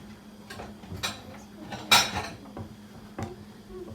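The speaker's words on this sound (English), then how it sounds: "I'm going to grab the lid to this." A metal pot lid is picked up and set onto a pot of water heating on the stove, giving a few light clinks and a sharper metallic clatter midway.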